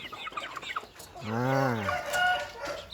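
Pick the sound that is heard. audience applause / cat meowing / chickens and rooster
chickens and rooster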